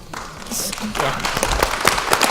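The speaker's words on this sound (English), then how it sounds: "Well-deserved applause" Applause breaks out at a board of directors meeting, starting faintly and swelling into a dense patter of many hands clapping at close range.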